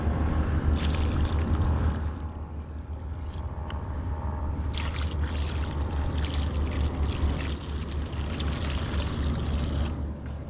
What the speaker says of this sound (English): Let's pour some more water in here.